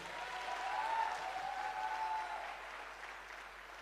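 An audience at a business gathering gives a guru a few seconds of steady, somewhat distant applause that swells and then gently fades.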